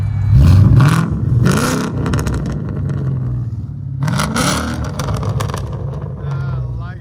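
A 2012 Ford Mustang GT V8 fitted with headers and a Bassani exhaust revs up hard twice in a shop bay, each loud close blip rising and settling into a throaty idle, with people talking over it.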